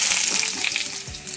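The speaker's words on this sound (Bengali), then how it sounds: "ভাবছি চাল কুমড়োটাকে একটু ভেজে নিই" Small-cut pieces of ash gourd (chal kumro), slightly past their best after time in the fridge, fry in a pan with a steady, bright sizzling hiss that continues without a break.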